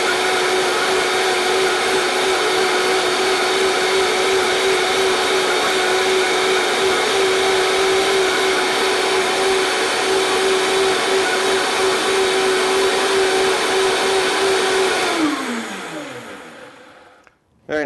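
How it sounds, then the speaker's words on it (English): Blender on high whirring through a banana protein shake, a loud, steady motor drone that holds for about fifteen seconds before spinning down and cutting off. "Now I'm going to blend this up until it's creamy smooth."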